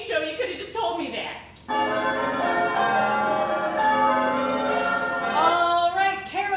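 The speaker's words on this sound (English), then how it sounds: "Alright, Carol, that wedding bell means it is time for you to give one of your invitations to one of our contestants." A wedding bell rings loudly on a game show, a sustained bright ringing tone that follows brief talk and holds for several seconds.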